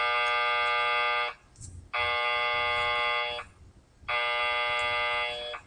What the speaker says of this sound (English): So in 2 seconds, we'll get an alarm.